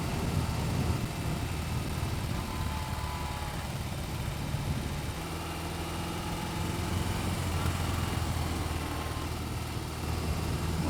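BMW R18 100 Years edition motorcycle cruising in third gear at about 30, its engine a steady low rumble mixed with wind noise, continuous and close throughout.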